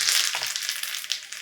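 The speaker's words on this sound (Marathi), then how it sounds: "चटणीला आपण आता फोडणी देऊन घेऊया." Mustard seeds, curry leaves and a pinch of asafoetida crackling in hot oil in a kadhai over low flame for a chutney tempering, a brief, close, bright sizzle with small popping spikes.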